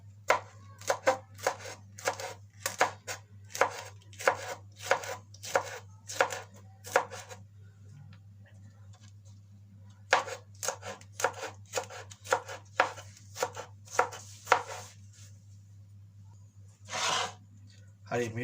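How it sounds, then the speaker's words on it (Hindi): Knife chopping green chillies on a board: rapid, steady runs of sharp close taps, pausing briefly mid-way before resuming, over a constant low hum, no voice. "अब हरी मिर्च काट लेंगे।"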